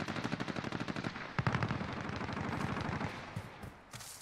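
Rapid automatic gunfire in the video game Modern Warfare, a steady rattling burst of shots with a louder flurry midway, close and loud, then tapering off near the end with no talk.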